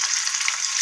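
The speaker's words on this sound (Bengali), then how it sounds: "পনিরগুলোকে ভেজে নিই।" Paneer cubes fry steadily in hot oil in a pan, giving a loud, continuous close-up sizzle with no talking.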